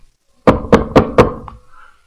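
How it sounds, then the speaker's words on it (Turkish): Four sharp, evenly spaced knocks on a door, loud and close, followed by a fainter fifth tap, then quiet. "o akşam saati sonrası kapı vurulmuş"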